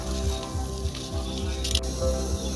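Bay leaf and whole garam masala spices crackle in hot oil for handi chicken, a close, moderate sizzle with soft rhythmic thumps of stirring and a brief brighter burst near the end.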